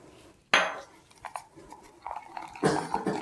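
Walnut pie filling with rice syrup and salt being stirred in a bowl, a sharp clink of utensil against dish followed by soft sticky scraping and light taps, close and fairly quiet.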